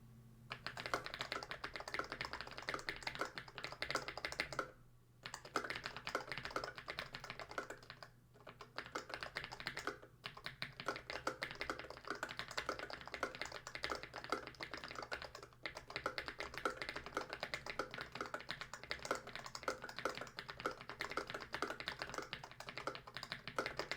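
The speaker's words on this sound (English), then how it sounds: "let's get into a typing test" Rapid, continuous clicking of keys on a computer keyboard, close and steady, with a few brief pauses between bursts of typing.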